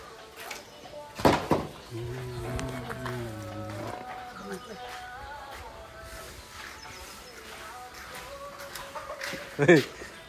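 A desi hen clucks after laying an egg on a goat farm, repeated cackles and clucks sounding close and fairly loud, with people talking and handling noises around it.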